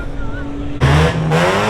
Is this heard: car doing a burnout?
yes